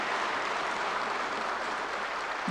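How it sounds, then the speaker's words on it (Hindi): Crowd applause at a national conference of cooperative society members, welcoming Mansukh Bhai: a continuous, even roar of many hands, distant and soft, holding steady the whole time. "सभी पैक्स वाले मनसुख भाई के लिए बड़ी जोर से ताली बजाकर उनका स्वागत करें"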